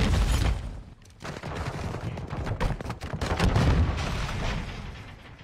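Rapid pistol gunfire from a shooter video game rings out in dense repeated shots, loud and close, with an explosive boom near the start and a constant volley that barely lets up.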